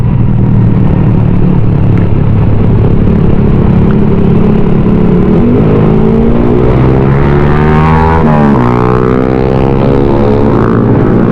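A group of six motorcycles rumble together close by, revving and shifting pitch as they ride, a steady loud drone throughout.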